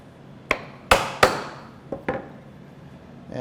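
A chisel is struck to cut a mortise in wood for a puzzle stool, giving five sharp, close knocks in an irregular rhythm, the middle ones loudest, with no voices.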